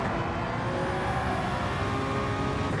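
Hypercar engines roaring steadily during a Gran Turismo 7 race at Watkins Glen, a loud continuous drone with no breaks.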